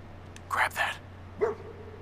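A dog companion in the game Fallout 4 gives a couple of short, close barks with a quick yip after a brief pause, standing out clearly over a low steady background hum.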